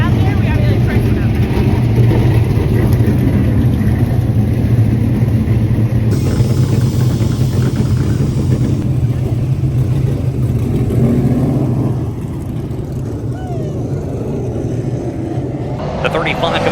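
Race cars rolling onto Thunder Mountain Speedway, a loud steady engine rumble that stays close and continuous throughout, dipping slightly near the end, with a voice talking over it.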